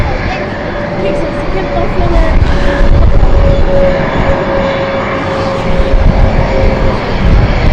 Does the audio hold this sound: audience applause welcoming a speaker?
no